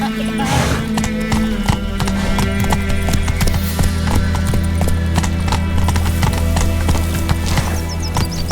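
Roach the horse galloping in The Witcher 3, rapid rhythmic hoofbeats clip-clopping loudly and close throughout, with a brief whinny early on over a continuous game soundtrack.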